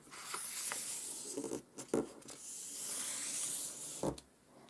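Paper being folded for an origami ninja star (shuriken): soft close-up rustling and crisp creasing rubs, with a few sharper crinkles, quiet and without talk.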